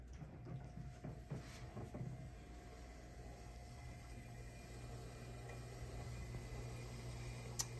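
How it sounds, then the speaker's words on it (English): A Newair Stone Brewing beer fridge stands open in a quiet basement, giving off a faint, steady low electrical hum with a thin tonal whine above it. A few soft knocks and handling clicks come early, and no one speaks. "see here, there's a little bit of a hum, but again, like we're in a very quiet basement right now."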